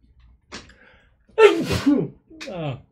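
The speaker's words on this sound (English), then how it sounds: "So I'm going to sneeze." A single sharp sneeze bursts out after a quick breath, with a short voiced sound following.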